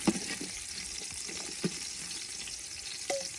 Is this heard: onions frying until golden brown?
yes